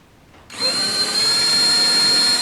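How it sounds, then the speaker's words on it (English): A power drill boring pilot pin holes into a countersunk speaker ring starts abruptly after a short quiet lead-in, then runs as a loud, steady high-pitched whine with no talking. "Drill in 6 holes for the pilot pin."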